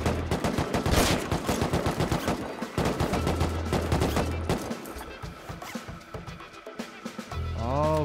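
Rapid bursts of AK rifle gunfire in the Rust video game, loud automatic fire that is dense in the first few seconds and then thins to scattered shots.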